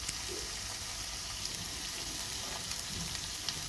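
Pavta seeds and brinjal fry together in oil, giving a steady broad sizzle that stays even and close throughout, with faint crackles in it and no voices.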